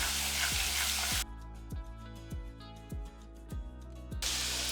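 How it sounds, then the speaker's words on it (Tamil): Spices frying in oil for vendhaya kuzhambu, an intense hissing sizzle that cuts off into quieter stretches with a regular pattern of low thuds, then the loud sizzle returns at the end; no talk. "நல்லா பொரிஞ்சதுன்னா தோலெல்லாம் அப்படியே பிரிஞ்சு வந்துடும் அந்த அளவுக்கு நல்லா பொரிஞ்சிருட்டோம்"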